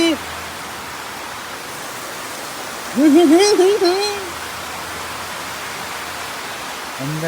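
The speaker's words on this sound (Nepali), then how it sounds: "यहाँ त यस्तो झर्ना आएको छ" Constant broadband rush of falling water, loud and steady, like a nearby waterfall, with a short burst of speech in the middle.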